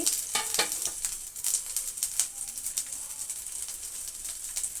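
Curry leaves and garlic sizzle and crackle in hot oil in a pan, with a steady frying hiss punctuated by sharp pops and light stirring, close and fairly quiet, no speech.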